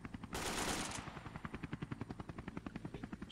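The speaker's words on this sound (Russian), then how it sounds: "Это кто стреляет? А зачем они стреляют?" Rapid automatic gunfire in the survival video game V.L.A.D.I.K., a burst of even, fast shots after a brief hissing blast, fairly close and sounding alone.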